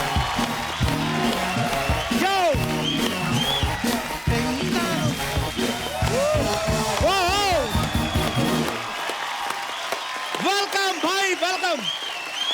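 A studio audience on a comedy talk show applauds and cheers as the guests come in, with a dense wash of clapping under loud music and a man greeting them.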